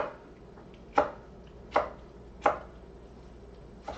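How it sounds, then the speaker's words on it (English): Rough chopping of vegetables with a knife on a cutting board while making Mexican stew: three sharp, evenly spaced chops close up, then a fourth light one, with quiet room noise between. "just kind of rough chopping them"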